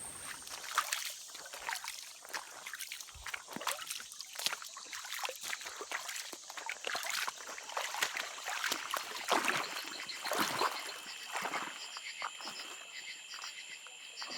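A creek flowing at night beside a trail camp, a soft, steady trickle and babble heard close, with crickets and insects chirping constantly in the background.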